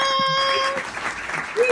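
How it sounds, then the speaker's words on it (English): Audience clapping for a DJ at a live show, a brief burst of hand claps that rises under a held musical tone and a few vocal sounds, lasting under two seconds. "Can we clap it up?"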